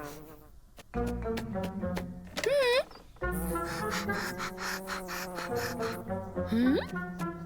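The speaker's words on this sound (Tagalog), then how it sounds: "Oh no! Isang bubuyog!" A cartoonish bee buzz weaves through bouncy background music, rising and falling in short bursts.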